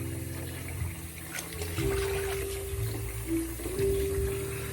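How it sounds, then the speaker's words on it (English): Runoff water drains from a shaving brush soak jar into a sink, a steady trickling and gurgling stream with faint hum beneath, heard close by. "And this is the runoff water from the jar."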